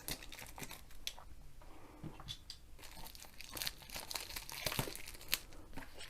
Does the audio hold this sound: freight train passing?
no